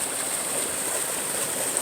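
A creek runs over bedrock with a steady, broad rushing wash, loud and close, continuing without a break for the whole stretch.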